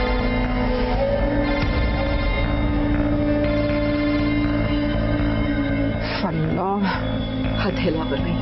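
A telephone rings steadily in the background under dramatic music and voices, its tone persisting throughout.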